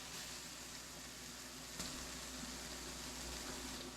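Bacon cooking in a pan gives off a continuous, even sizzle with a fine crackling hiss throughout, close and steady, with no talking.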